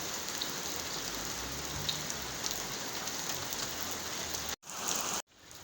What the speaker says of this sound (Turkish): Evet, şiddetini arttırdı Nisan yağmurları.